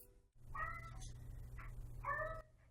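A Siamese cat meows twice, separate drawn-out calls over a low steady hum in a quiet room.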